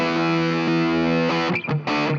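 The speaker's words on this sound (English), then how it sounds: "I'm gonna engage the pedals here. So we're gonna hear some reverb and delay." Distorted electric guitar run through Amplitube with reverb and delay pedals and a tube screamer ahead of the amp, sustained chords ringing loud and steady, then a brief choppy break and a final strummed chord with echoing tails.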